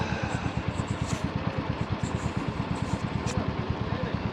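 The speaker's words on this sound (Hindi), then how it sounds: "अभी हमारी बाइक जो है कोल्ड स्टार्ट हो रही है।" A motorcycle engine cold-starting and idling on a mountain trip, a steady low throbbing pulse with regular rapid firing beats, fairly close and continuous throughout.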